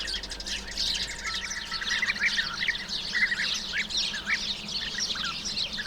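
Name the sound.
bee-eater colony calling at nesting site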